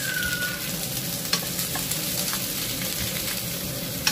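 Shrimp frying in a pan while being turned to cook both sides, a steady close sizzle with soft scraping and a couple of light clicks from the utensil.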